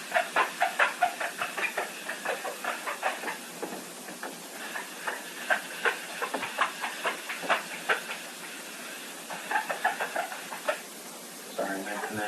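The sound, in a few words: magic eraser squeaking while erasing a board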